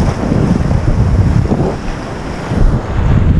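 Surf rolls onto a Corpus Christi beach as the tide comes in, making a loud, continuous, close rushing wash that swells and ebbs. Heavy wind buffets the microphone throughout, with no talk.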